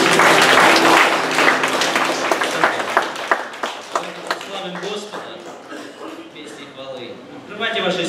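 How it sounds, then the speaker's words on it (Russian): Congregation applause fills a Moscow church service of the Dom Ottsa church at the start, then thins to scattered claps and fades as a person begins talking. "Аплодисменты великому Богу."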